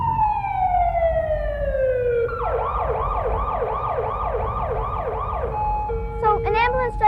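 An ambulance siren wails loudly in long falling and rising sweeps, then switches to a fast repeating yelp, with a low engine rumble underneath.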